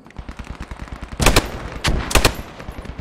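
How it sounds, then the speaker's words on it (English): Machine gun fire from the World War 2 video game Post Scriptum: a rapid, steady stutter of shots, with two louder, closer bursts cutting in over the lighter firing. "I got that MG shooting at us, Grenadier."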